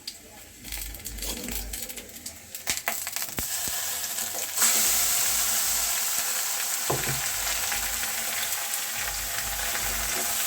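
Kharkol leaf paste frying in mustard oil in a kadai with chopped onions, a steady hiss of sizzling with stirring scrapes and clinks, the frying growing louder and denser partway through.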